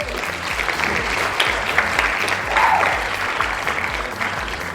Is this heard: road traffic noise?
no